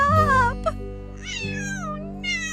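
A cat meows several times, drawn-out and tonal, with a steady low hum running underneath and no talking.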